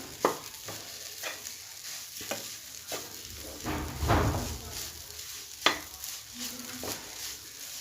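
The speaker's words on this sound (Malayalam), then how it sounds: "നമുക്കിത് നല്ലപോലെ ഒന്ന് ഇളക്കിയെടുക്കാം." A spoon scrapes and stirs carrot kappa payasam mixture in a pan, making a string of sharp, close strokes over a soft sizzle, with a louder sloshing swirl near the middle.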